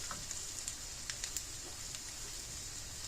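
Shrimp stir-fry with soy sauce sizzling in a pan as it is mixed, a steady soft hiss with a few faint scraping ticks from stirring, fairly quiet throughout.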